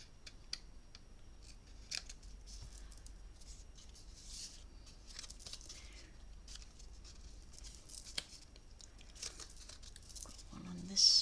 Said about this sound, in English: Just get some smaller scissors. Just going to trim that little nub just a little.